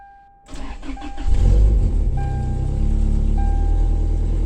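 A Toyota Tacoma truck with a five-speed and worn exhaust cranks over and catches, then idles loudly and roughly up close with a deep, uneven rumble and a steady low drone.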